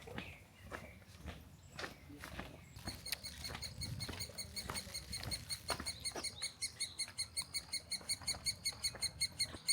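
A squirrel calling nonstop outdoors, a quiet start giving way to a rapid, regular chattering series of sharp chirps that grows steadier and louder, with footsteps and faint rustling early on.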